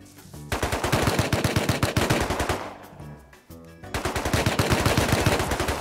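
Rapid video game machine-gun fire bursts loud and close in a base-raid match, dense rhythmic rattling that breaks off briefly midway and then resumes at full intensity.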